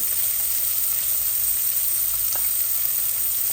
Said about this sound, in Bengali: আমি এখন অনিয়নটাও দিয়ে দিচ্ছি